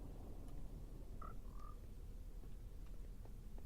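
A Minecraft frog gives a brief croak, then a second slightly longer one, faint over a loud, constant low rumble of game ambience; no speech.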